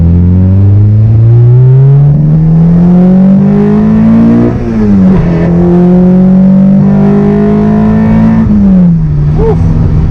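A Honda Integra Type R DC2 engine revs hard and loud inside the car, pitch climbing steadily through the gears with brief dips at each shift as VTEC engages, then rising again.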